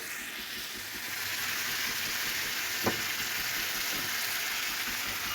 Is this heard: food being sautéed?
yes